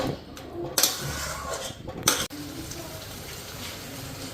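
Dried fish water being poured into a pan of frying spices, a soft running pour and bubbling with a couple of sharp clatters of the pan or utensil, fairly quiet and close.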